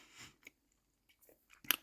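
A crunchy caramel cream snack is chewed close to the mic, giving a few soft crunches and bites separated by short pauses, ending in one sharper, louder crunch.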